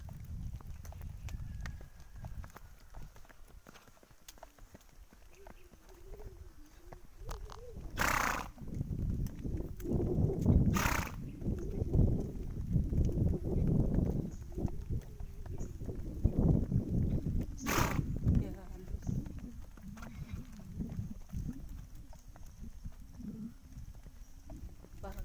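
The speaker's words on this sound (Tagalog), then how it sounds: "Parang ganito po yung kabayo." A horse walks along a long rural road, its hooves clip-clopping steadily for a while, with occasional whinnies and someone talking over the hoofbeats.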